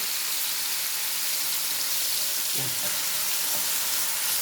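Large peeled garlic cloves cooking gently in oil in a pan with potatoes nearby, giving a low, even sizzle with a couple of brief knocks from stirring around the middle, fairly quiet throughout.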